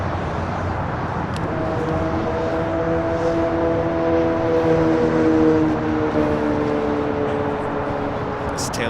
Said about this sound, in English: This is United Airlines 1621 taking off to Orlando on a